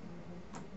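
A single soft click from a computer mouse, brief and faint, standing out once against a low steady room hum while a Photoshop gradient is being set up.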